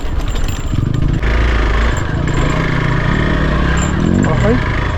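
A motorcycle rides up a rough, bumpy mountain track, its engine loud and close with a constant rumbling drone and shifting revs, while a rider talks over the noise.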